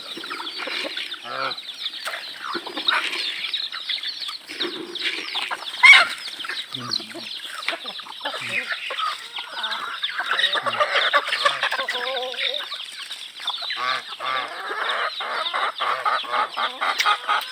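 A flock of geese and turkeys honks and clucks continuously at close range, busy overlapping calls with occasional wing flaps and no clear talking.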